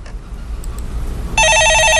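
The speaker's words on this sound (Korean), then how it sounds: "예, 전화 받아보겠습니다." Halfway through a Korean stock-market call-in radio show, a telephone starts ringing with a loud, bright electronic trill. It cuts in suddenly over low background hum and continues steadily to the end.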